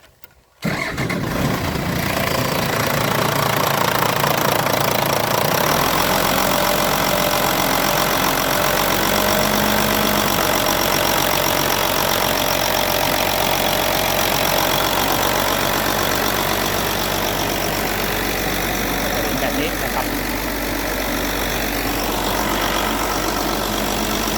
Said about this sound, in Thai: เดี๋ยวผมจะติดเครื่องแล้วล็อกคขาเร่งแล้วก็เติมน้ำไปเลยเนาะเปิดสวิตช์ก่อน